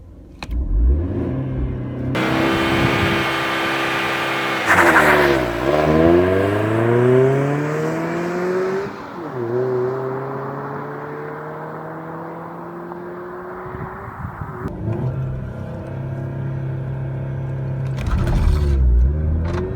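A Mercedes W203 pulls away in first gear with a loud, close engine note. The pitch climbs through repeated rising revs, drops back between them, and holds a steady drone before easing off.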